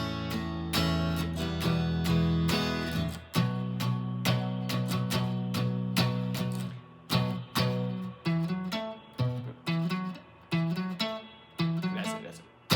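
Guitar playing the song's main riff with chords, sustained ringing strums at the start giving way to a steady series of separately picked, clipped chord hits, with no voice over it.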